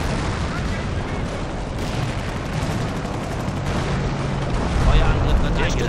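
A Company of Heroes: Tales of Valor battle roars with heavy explosions and gunfire, a dense rumbling barrage that swells louder near the end.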